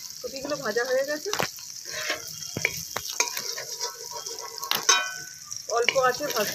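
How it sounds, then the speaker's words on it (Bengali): Cauliflower florets frying a few at a time in oil over low heat, a soft steady sizzle with occasional spits and clinks, broken up by nearby speech. "অল্প অল্প করে তেলে ভাজতে হবে।"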